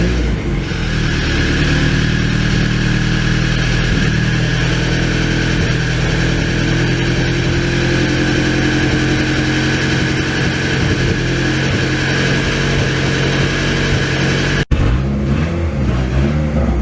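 A Honda Prelude with a big turbo setup runs just after startup, its engine holding a loud, steady, rough idle close by with a throaty drone and a brief pause near the end.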